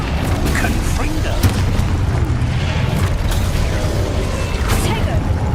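Booming, crackling explosion of the Confringo blasting spell during hard-mode spell combat in Hogwarts Legacy, a dense continuous roar of battle effects with no clear gaps.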